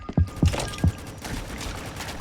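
Three sharp gunshots from the Rolling Thunder video game crack out in quick succession in the first second, then fade into a low, steady background hum.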